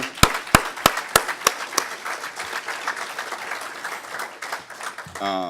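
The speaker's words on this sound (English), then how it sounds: "So a round of applause, guys." Conference audience applause at a closing awards session, opening with a few sharp, close individual claps before settling into a steady wash of clapping, with a voice starting at the end.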